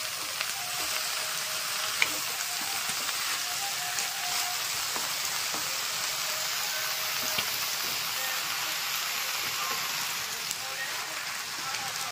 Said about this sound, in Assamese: পাভ মাছ ফ্ৰাই কৰা হৈছে প্ৰয়োজন অনুসাৰে